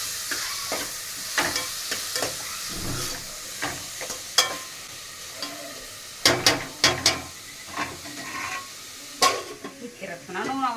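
Onions and tomatoes frying for a raw prawn curry, a low sizzle broken by repeated sharp scrapes and clacks of a spatula stirring against the pan, close and irregular, with brief talk.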